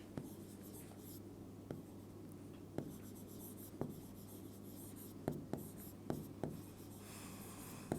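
A pen scratches steadily across paper while a maths solution is written out by hand, with short strokes and occasional sharper taps, close and continuous through the whole stretch.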